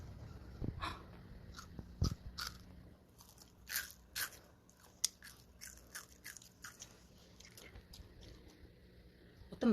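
Crispy fried shrimp toast (menboshya) being bitten and chewed close up, with sharp crunchy bites and crackling chews repeating through the clip and a few soft breaths between.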